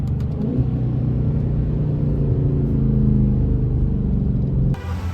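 A Dodge 392 Scat Pack V8 with a loud aftermarket intake rumbles close by, a deep throaty idle with a slight swell as the revs rise, ending in an abrupt cutoff and a brief hiss.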